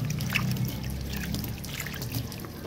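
Water trickles and splashes steadily as it is poured to rinse a car's exterior, a close, continuous dribbling sound with no talking.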